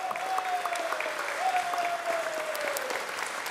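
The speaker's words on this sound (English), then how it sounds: "let's give him another round of applause while we're here" A crowd at a Los Angeles City Hall event claps in sustained, even applause, close and full, with a faint sustained tone running beneath the clapping.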